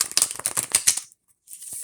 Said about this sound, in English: so I'm just doing one final shuffle.